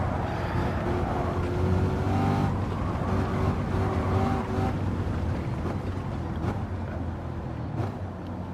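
V8-swapped Mazda Miata in Gran Turismo 7, engine roaring steadily as the car is driven hard through corners, revs rising and dipping with shifts, loud and continuous with no talking.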